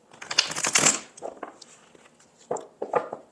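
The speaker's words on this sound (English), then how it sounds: "One more good shuffle for good measure." Tarot cards riffle and slap together in a quick burst, followed by a few softer shuffling flicks and taps up close.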